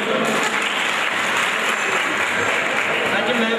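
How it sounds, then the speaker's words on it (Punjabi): An audience applauding at a stage show, a continuous, even wash of clapping from many hands, loud and steady throughout without a break. "ਮਾਰੋ ਤਾੜੀ"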